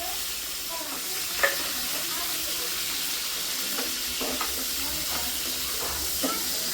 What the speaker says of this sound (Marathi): तेल गरम झालंय आपलं. हा आता यात कांदा टाकूया.